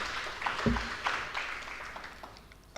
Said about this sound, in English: Just let's clap the hands for her